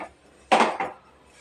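Cooking pots and dishes being scrubbed by hand, heard as two short, close, rough scraping bursts with a faint metallic clatter, with no talking.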